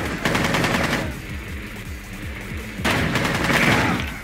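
Gunfire from the Rainbow Six Siege video game: loud bursts of rapid automatic fire for about a second, a quieter stretch of scattered low thuds, then another long loud burst near the end.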